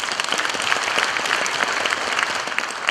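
Audience at a March First Movement anniversary ceremony applauding, a steady, dense burst of many hands clapping, loud and close, with no talk over it.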